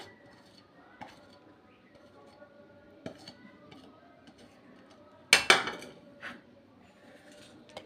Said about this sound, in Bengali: সবগুলো উপকরণ আমরা একসাথে মিক্স করব।